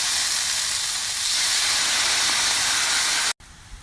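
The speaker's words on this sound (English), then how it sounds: "I'm gonna take my wine and I'm gonna reduce it down" Wine hits a hot pan and sizzles hard as it reduces, a loud, dense hiss that holds steady for a few seconds and then cuts off abruptly, with no one talking.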